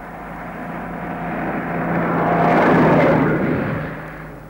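A lorry passes by on a road, its engine rumble building from a distance to a loud peak near the curb and then fading away, with no voices.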